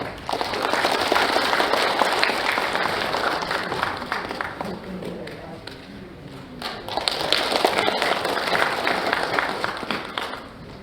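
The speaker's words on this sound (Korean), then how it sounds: "박수 부탁드리겠습니다." Sustained applause from a crowd at a founding assembly of a bereaved families' association, welcoming a speaker to the podium; steady dense clapping that dips briefly in the middle before swelling again.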